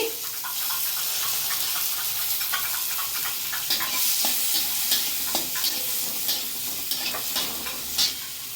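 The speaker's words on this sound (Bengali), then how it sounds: "এতে তেল গরম করে নিয়েছি তেলে দিয়ে দেবো প্রথমে একটা গোটা শুকনো লঙ্কা হ্যাঁ দিয়ে দেবো পেঁয়াজ কুচি রসুন কুচি" Dried whole chili, chopped onion and garlic fry in hot oil, a steady broadband sizzle with crackling pops and occasional stirring scrapes, close and continuous without talk.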